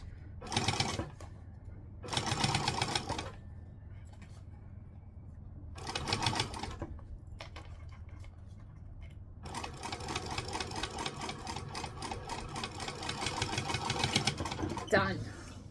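Close sewing machine stitching in several short start-stop bursts, then a longer continuous run of rapid needle chatter; a person talks quietly between the bursts.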